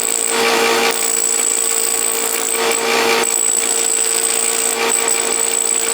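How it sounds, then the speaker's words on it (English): A grinder bevels the upper edge of a steel pipe about 3 inches long, giving a loud, continuous abrasive whine with brief dips in intensity. "First step is to go over to the grinder and grind a bevel along the upper edge."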